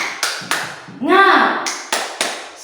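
A group of children claps out a spirit-clap rhythm in sharp, evenly spaced beats, broken in the middle by a sung chant, with a leader's voice guiding them.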